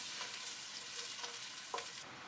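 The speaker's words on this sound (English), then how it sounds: "Then add some kalo jeera, 1 diced onion, some ginger and 2 green chilies into the pot and fry for 2 minutes." Kalo jeera, diced onion, ginger and green chilies fry in hot oil in a pot, a steady close sizzle with a few brief stirring scrapes.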